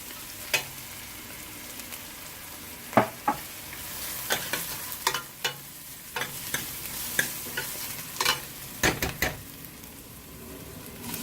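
Ginger frying in a pan for vegetable pulav crackles under a quiet sizzle while a utensil scrapes and taps repeatedly in irregular bursts of stirring, close and clear, with no talking.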